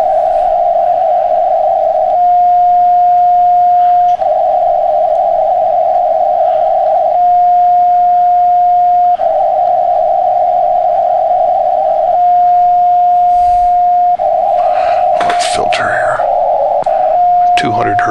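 Morse CW tones bounced back off the moon arrive as a steady pitched note broken into long keyed bursts over a hissing radio background, received on a Kenwood TS-2000 with a dipole antenna, with a brief burst of other radio noise near the end.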